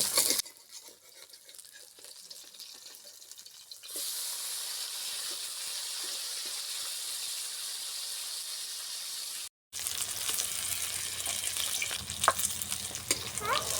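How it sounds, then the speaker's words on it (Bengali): Fish fry in hot oil in a pan, giving a steady close sizzle that jumps louder partway through, breaks off briefly, then resumes with crackling bursts. "মাছগুলি ভাজা হয়ে গেছে"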